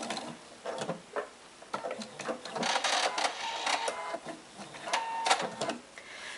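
A sewing machine back-stitches the end of a tote bag handle in quick, close, choppy bursts of mechanical chatter.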